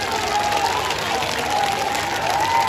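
A crowd at a Delhi BJP election rally for a ward 163 candidate, attended by the Delhi chief minister, claps in a brief, steady burst of applause, with a thin sustained tone wavering over the clapping.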